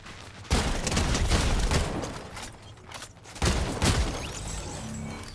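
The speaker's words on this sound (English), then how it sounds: "we're getting shot from the right now" Two bursts of loud gunfire from the right in a Fortnite firefight, each a dense volley of rapid shots and cracks lasting over a second, with a steady rattle continuing between and after them.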